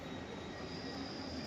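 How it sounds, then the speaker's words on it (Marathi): A parked high-speed train, billed as Europe's fastest at over 300 km/h, gives off a steady broadband hum and hiss at a station in Zurich, constant and unbroken with no voices. "आत्ता माझ्यासमोर आहे युरोपातली सगळ्यात फास्टेस्ट ट्रेन."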